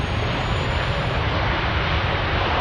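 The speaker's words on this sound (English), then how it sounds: "We can't turn the engine noise up" Steady, loud broadband roar of a Qatar Airways Boeing 787 Dreamliner's engines after landing at Manchester Airport, continuous and unchanging throughout with no voices over it.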